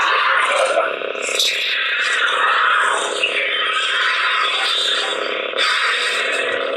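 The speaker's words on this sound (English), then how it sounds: "And then you heard that ignition sound, the hum changed" A small-bladed toy lightsaber crackles with buzzy electronic ignition effects and a wavering hum, changing pitch as it plays close by.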